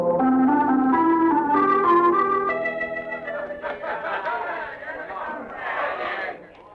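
Crowd of people chattering and laughing in the Cafe del Toro, a dense murmur of voices that swells then tails off, heard under a sung or sustained tone at the start.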